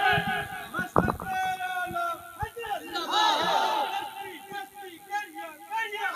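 At a religious gathering a crowd answers a slogan chant with loud shouted responses. Overlapping voices swell and echo through a reverberant hall, joined by a short burst of clapping or thumping near the start.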